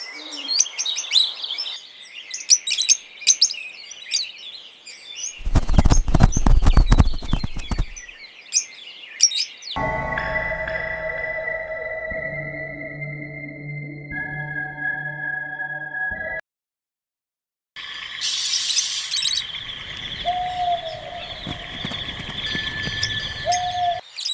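A young lovebird raised by its parents chirps in bursts of high, thin tweets, mixed with other bird calls and broken up by short gaps of silence.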